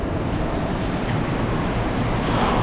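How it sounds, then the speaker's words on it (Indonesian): A steady, broad rumble of an Indonesian KRL commuter train departing and rolling along, continuous and fairly loud with no voices over it. "Keberangkatan KRL."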